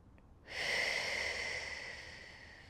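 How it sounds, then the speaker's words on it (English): Slow, deep breathing during a somatic Pilates session on a mat: after a quiet start, one long, full, airy breath swells in near the microphone and sustains, fading gradually, with no talk over it. "Inhaling and exhaling. Full breath in, full breath out."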